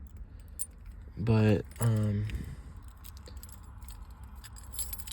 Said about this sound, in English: just put these keys in the ignition.